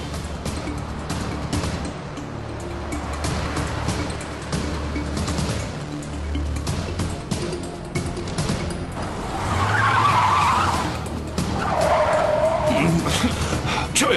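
A car driven recklessly skids along a road, its engine and tire noise rolling steadily, then sharper squealing surges near the end, with voices faintly mixed in.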